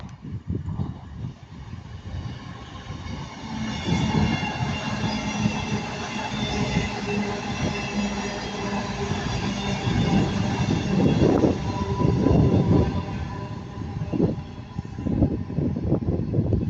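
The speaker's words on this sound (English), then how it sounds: "And now passing by Avanti West Coast 221 113 for cross country." Avanti West Coast 221 113, a diesel multiple unit, passes through Ardwick with a sustained rumble that swells and fades, with wheel and rail noise peaking midway and no speech.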